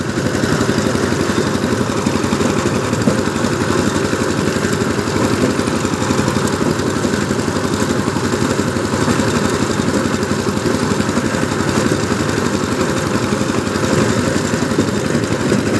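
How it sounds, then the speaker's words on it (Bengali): A power tiller fitted with a 2002 engine and 18 blades cultivates dry land, its engine chugging loudly and steadily at close range with a constant mechanical rattle throughout. "পাওয়ার টিলার দিয়ে জমি চাষ করে অনেক মজা।"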